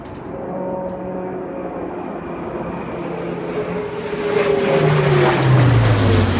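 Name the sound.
RAF Atlas A400M military aircraft flying low overhead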